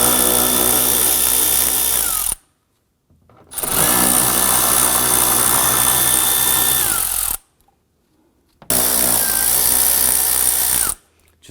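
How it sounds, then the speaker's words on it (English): Power driver with a 7/32 socket backing screws out of the inner fender liner on a Ford F-150, three sustained whirring runs separated by short pauses, each winding down as the screw comes free. "We're going to start by using our 7/32 socket and loosen and remove all of the screws."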